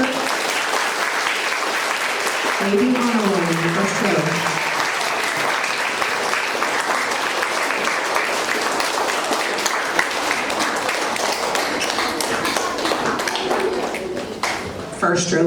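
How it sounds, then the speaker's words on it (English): An audience at a school quarterly awards ceremony claps for the honor-roll winners in the first row, a sustained, even round of applause running throughout while a person speaks briefly over it. "Let's go ahead and clap for our friends in the first row."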